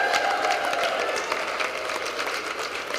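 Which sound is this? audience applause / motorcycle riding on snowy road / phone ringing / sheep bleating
audience applause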